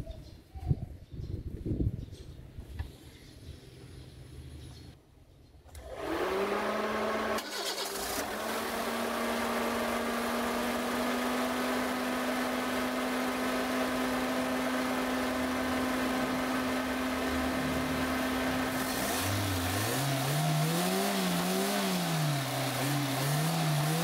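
A Toyota Platz with a 1SZ engine cranks and starts after a throttle body cleaning, then settles into a steady, even idle, with a few rising and falling revs late on.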